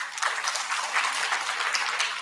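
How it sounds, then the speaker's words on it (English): Brief, soft applause from students at a first-year induction program, a continuous wash of clapping with no speech. "Round of applause for them."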